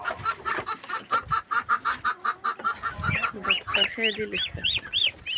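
Domestic birds and ducks let out for morning feeding, with loud repeated clucking and honking calls close by in a steady rhythmic series, some rising squawks, and a person speaking briefly.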